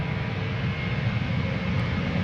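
A Transavia airliner departs Amsterdam Schiphol bound for Fuerteventura, its jet engines making a steady, loud, broadband roar with heavy low rumble that holds evenly throughout, close by and with no voices.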